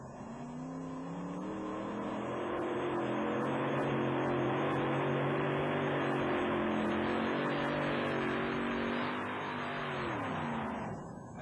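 A monster truck at a 1991 USHRA show in Uniondale, New York, roars at full throttle while pulling a sled down the track, its engine noise loud and sustained for several seconds before easing off at the end.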